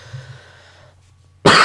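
A single sharp, loud cough bursts out near the end after a quiet stretch of faint background hum.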